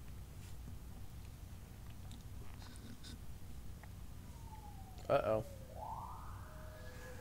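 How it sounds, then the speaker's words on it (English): A siren wails from outside in the PS2 horror game Silent Hill 4: The Room, a rising and falling tone that swells briefly and then sweeps upward, moderately loud over low background hum, with a voice speaking briefly. "Ambulance."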